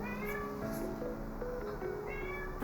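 Cat meows several times in quick succession, fairly close and clear, with a faint steady background hum.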